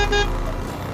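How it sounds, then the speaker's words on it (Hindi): A vehicle horn sounds from behind on a highway at night, a short steady tone that is loud and clear for a brief moment and then fades into road rumble. "वो हमें लगातार हॉर्न दिए जा रहा था।"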